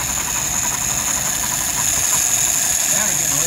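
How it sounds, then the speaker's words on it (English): Motorcycle engine running during a warm restart and stumble test with two full throttle pulls, a close, steady loud drone with rough pulsing throughout. "let's go ahead and do that warm restart and stumble test."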